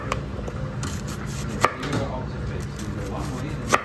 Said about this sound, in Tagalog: Ito, hihiwain niya na yung mga sibuyas.